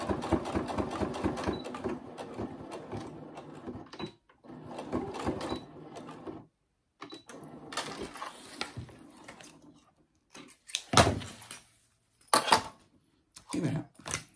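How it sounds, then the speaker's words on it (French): Sewing machine topstitching fabric along a seam for a simple belt bag, running in rapid steady stitching bursts with short pauses and stops, close and fairly quiet. "Je fais ma surpiqûre tout le long."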